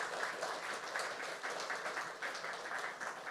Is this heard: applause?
yes